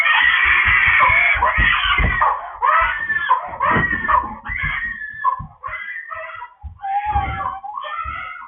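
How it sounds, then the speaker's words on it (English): Children screaming at 3 a.m., loud shrill wailing cries that rise and break into sobbing bursts, close and continuous with short gaps between screams. "Running and screaming. Not normal screaming."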